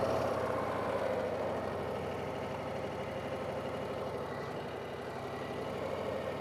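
Harley-Davidson Heritage Softail Classic motorcycle engine idling steadily with a low, even rumble throughout, moderately close and alone with no talk.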